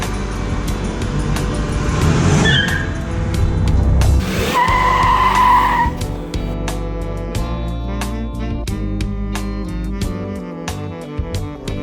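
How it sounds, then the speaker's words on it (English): Tires on a Buick Park Avenue Ultra squeal loudly with traction control switched off, a sustained screech over a revving engine that rises and falls across several seconds, close and alone without talk. "You can turn off the traction control and really light up the tires."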